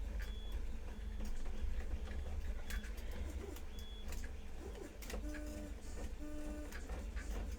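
A 3D printer running, its stepper motors whirring and chirping in short tonal bursts over a steady low hum, fairly quiet and alone.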